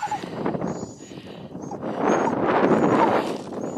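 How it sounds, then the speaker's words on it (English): Wind blows across a mountain ridge in Snowdonia, a constant blustery rumble that buffets the microphone and swells louder toward the end. There is no clear talking. "A bit windy."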